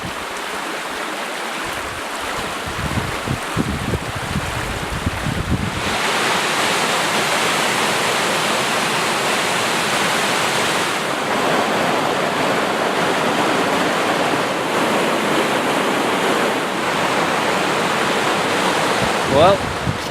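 Loud, high river water rushing steadily along a North Country Trail crossing in Michigan's Upper Peninsula, a broad continuous roar of churning flow close by that swells after a few seconds and holds, with no talk over it.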